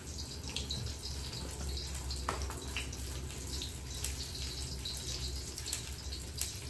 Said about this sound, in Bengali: এক্সট্রা জল দেবো না, ওই ধোয়া জলটাই দিলাম